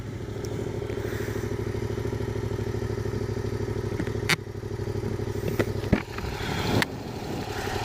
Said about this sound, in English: I'd give it stock exhaust sound